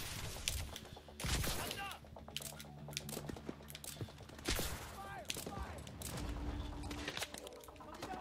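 Rapid automatic gunfire in Call of Duty: Advanced Warfare, with repeated bursts and heavy impacts over a dense mix of game effects and music, loud and continuous throughout.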